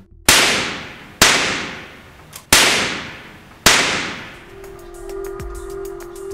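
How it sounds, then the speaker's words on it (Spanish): Artificial lightning discharges in a laboratory, four sharp loud cracks at roughly one-second intervals, each with a decaying roar, followed by an electrical hum and faint crackle. "Las descargas artificiales son registradas con cámaras de alta velocidad."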